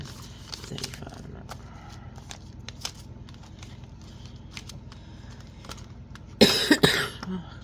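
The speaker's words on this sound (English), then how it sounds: "Oh, sorry, I keep coughing, guys," A short burst of harsh coughing near the end, loud and close, after a stretch of quiet room noise with faint clicks.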